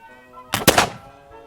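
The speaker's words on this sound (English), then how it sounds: "get ready to fire, get ready to present, pull back, and on the command of fire" A Model 1777 French flintlock musket fires one loud, booming shot up close, the sharp blast rolling into a brief rumbling tail before quiet returns.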